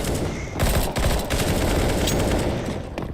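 Gunfire in Counter-Strike: Global Offensive: a dense, loud fusillade of rapid automatic shots sustained for about three seconds, with brief dips between bursts and little speech.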